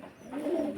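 A racing pigeon gives one short, soft, low coo that swells briefly, close by and alone.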